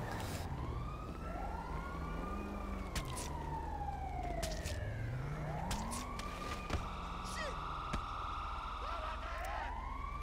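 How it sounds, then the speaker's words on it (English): A wailing ambulance siren in the video game GTA Online sweeps up and down continuously over a low engine rumble, with a second warbling tone joining partway through. "Ambulance."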